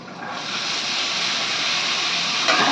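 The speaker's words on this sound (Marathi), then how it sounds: "थोडंसं परतून घ्यायचं आहे आणि आपण धुवून बारीक कापलेले गव्हाची शेंगा टाकायचे" Chopped cluster beans sauté in a hot pan, giving a loud, continuous hiss and sizzle that holds evenly throughout with no talking.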